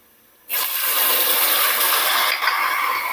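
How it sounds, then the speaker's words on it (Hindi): Water pours steadily into a cooking pot of chicken and chickpeas, a loud, rushing hiss lasting a few seconds before stopping. "अब इस पॉइंट पर मैं थोड़ा सा पानी शामिल करूंगी"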